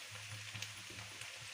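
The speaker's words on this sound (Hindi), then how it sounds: "फ्रेंड्स बारिश तो बढ़ती जा रही है बहुत" Heavy unseasonal rain pours steadily outside a home in the morning, a soft continuous broadband hiss with faint low rumbles, heard alone at low volume without any speech.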